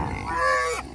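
A single short, nasal grunt from a KuneKune pig, close by, with a rising tonal quality, heard alone in an outdoor pen among sows.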